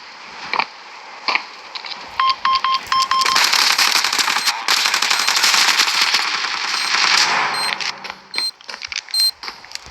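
Rapid bursts of automatic gunfire in a competitive online shooter, loud and close, with electronic beeps and interface tones scattered between the volleys.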